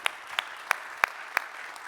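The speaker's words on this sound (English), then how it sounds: "Maybe a great round of applause." Sparse, evenly spaced hand claps at an awards ceremony for peace and sport, about six sharp slaps ringing out at a slow steady pace with little crowd sound around them.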